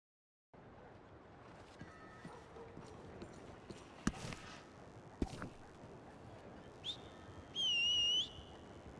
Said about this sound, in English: Well, that's my whistle, if anyone was wondering